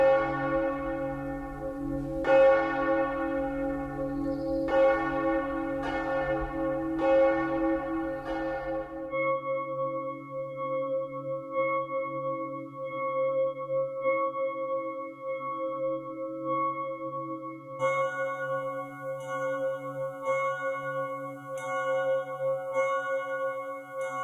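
Struck bell whose layered partials are heard as minor chord sonorities: a series of clangy strikes gives way to long, pure sustained tones, with brighter high tones entering later over the steady hum.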